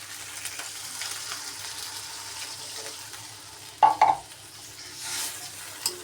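Meat frying in a pan with cardamom, cinnamon and clove as water goes in, a steady soft sizzle and stirring rumble, with a brief sharp splashy burst partway through, close and alone.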